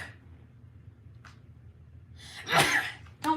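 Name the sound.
sneeze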